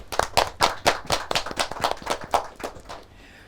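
Clapping during a lecture on tourism in Angola sounds as a quick, even series of about a dozen sharp claps in near-unison rhythm. It stops abruptly and leaves a faint room tone.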